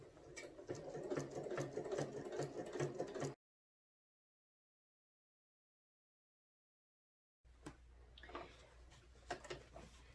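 A sewing machine stitches fabric in two bursts, a steady whirring run at the start, a few seconds of silence, then a shorter run with mechanical clicks.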